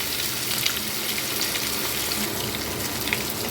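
Boiled, drained hog plums dropped into a pan of frying garlic for a tangy sweet-spicy pickle, giving a steady, close, watery hiss and sizzle with faint crackles throughout, no voices.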